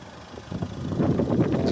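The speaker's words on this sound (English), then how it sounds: "As you can hear, the engine's lovely on it, really nice smooth engine." A used car's engine runs smoothly at idle, a low, soft, even rumble heard close by with light wind noise, steady and with no talking.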